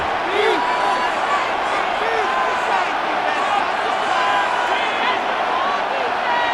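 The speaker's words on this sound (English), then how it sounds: "What about this crowd getting even louder before 3rd and 10?" Stadium crowd noise from a Madden NFL 26 Giants versus Patriots simulation on PS5, a loud sustained roar with cheering and whistles that holds steady throughout, with commentary speech mixed in.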